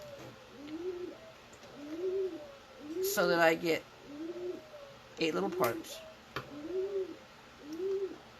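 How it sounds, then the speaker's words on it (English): Turtle doves and rescued, injured foundling pigeons coo indoors in a steady rhythm of soft repeated calls. A person talks intermittently over the birds. "turtle doves and they're foundling pigeons that have been injured."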